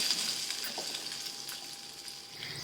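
Sliced onions fry with a piece of ginger and several garlic cloves in a pan until golden brown for a South Indian mutton gravy. A soft, steady sizzle sits close by, with faint stirring.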